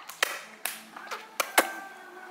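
A toddler clapping hands at home, a handful of separate, uneven claps spaced apart, close and fairly loud, with an adult voice faintly present in between.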